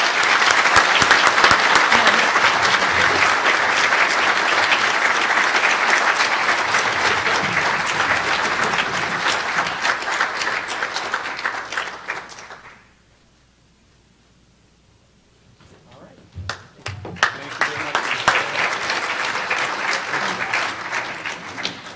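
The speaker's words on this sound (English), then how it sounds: "let's give them a round of applause for their dedicated service" A large audience at an alumni awards celebration gives sustained, loud applause that dies away into near silence, then picks up again into another strong round of clapping.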